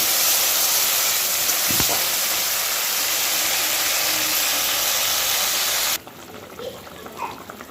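Water poured onto hot fried masala and fried potatoes in a pan hisses loudly and continuously for about six seconds, then cuts off abruptly, leaving quiet kitchen room tone with faint knocks.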